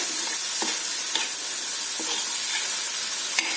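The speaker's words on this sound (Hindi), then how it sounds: "इनको भी अच्छे से सौटे कीजिए, आपस में मिक्स कीजिए" Mixed vegetables sautéing in a pan, a loud continuous sizzle broken by regular scraping stirs of a spatula against the pan, close and steady with no talking.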